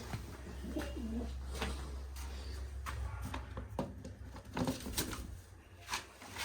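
Pigeons in a coop cooing close by in low, rolling repeated calls over a faint steady hum, with occasional soft wing flutters and rustles.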